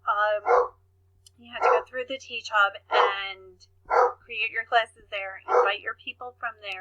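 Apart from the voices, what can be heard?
dog barking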